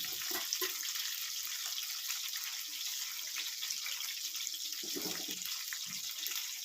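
Steady running water splashing as bitter gourd and okra are rinsed in a sink, continuous and close, with faint clinks underneath.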